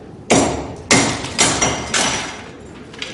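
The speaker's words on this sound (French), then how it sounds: "Prenez ce gros marteau, cassez-le." A big hammer smashes open a sealed crucible with four or five heavy, loud blows, each a sharp crack that rings out and decays before the next, spaced about half a second apart.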